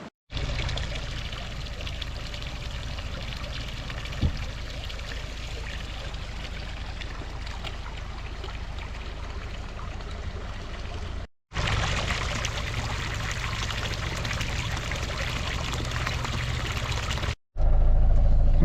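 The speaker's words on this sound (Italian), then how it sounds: "Molto bene, abbiamo riempito l'acqua" Water pours steadily into a camper's tank in a continuous rushing stream, with a brief break partway through before the flow resumes, strong and close throughout.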